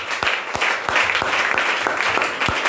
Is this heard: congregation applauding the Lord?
yes